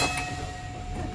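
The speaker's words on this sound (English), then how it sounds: "I'm one of Bendigo's Vintage Talking Trams." A vintage Bendigo tram rumbles along its track with a steady low roar and faint mechanical whine, continuous and close, with no talk.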